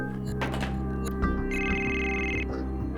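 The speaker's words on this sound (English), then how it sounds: "When the phone finally rings" A telephone rings with a bright electronic trill against a background of low thumps and room noise, the ring lasting about a second before cutting off.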